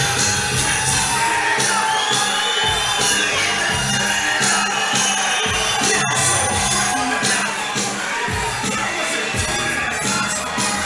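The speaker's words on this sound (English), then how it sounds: "The crowd is going wild." A loud, dense crowd cheers and roars without letup at an Australian amateur MMA fight night as a fighter is introduced, with shouts and whoops rising over steady, close-up applause-like noise.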